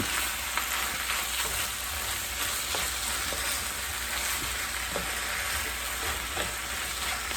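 Pasta sauce stirred in a pan with a steady soft sizzle and light repeated scraping strokes throughout, with no talking.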